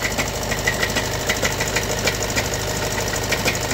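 Steady idle of a Skoda Octavia 3 with a DSG automatic gearbox whose dual-mass flywheel is worn, a continuous engine hum with a fast, regular knocking tick running through it, close and loud, no talk.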